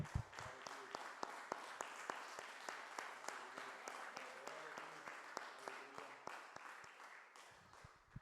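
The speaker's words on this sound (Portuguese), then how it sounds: "Você pode aplaudir o Senhor bem forte?" A church congregation applauding during a worship service, sparse individual claps sounding as distinct sharp transients over a low murmur, moderately quiet and steady for several seconds.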